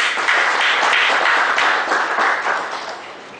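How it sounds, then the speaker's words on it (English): Audience at a capital gains lecture clapping to thank the speaker, a loud burst of many hands that holds steady and then begins to fade toward the end. "It's time to thank the speaker with a round of applause."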